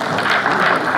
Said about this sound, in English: We should clap hands for him.